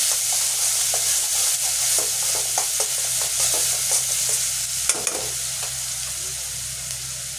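A ginger, garlic, onion and coriander spice paste fries in a pan for chitol fish curry, giving a steady close sizzle with intermittent scraping stir strokes and no talking.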